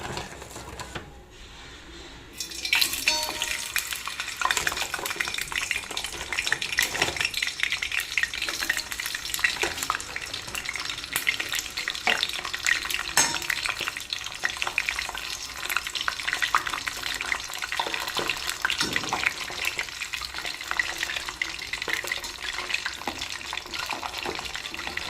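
French fries frying in hot oil: a dense, steady sizzle and crackle starts abruptly after a short quiet moment and continues evenly for the rest of the stretch, close and alone.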